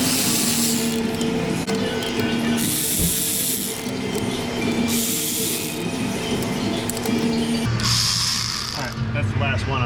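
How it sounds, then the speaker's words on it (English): A ratchet wrench threading bolts in by hand during a repair job, giving bursts of quick mechanical clicking at close range with a steady workshop background underneath. "I'm gonna go ahead and bolt this down. As usual, I'm just gonna get these started."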